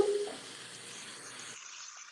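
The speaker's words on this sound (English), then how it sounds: "Listen to that. Sizzle." Food sizzles in a hot pan, a soft steady hiss that carries on faintly and then thins out abruptly toward the end.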